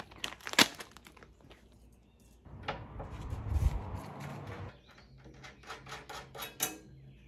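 A plastic baggie holding four Phillips head DeWalt stand bolts is handled up close, giving soft crinkling and rustling with a few sharp clicks and a denser crumpling passage in the middle.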